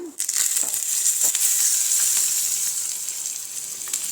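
Loud, hissing sizzle of dried red chilli, cloves, green chilli and curry leaves hitting hot tempering oil, bursting in at once and holding steady, close up with a few sharp crackles.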